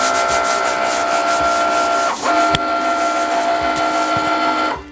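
A Cricut cutting machine runs steadily on a 2x2 card mat, giving off a continuous mechanical whir with a brief shift in tone partway through.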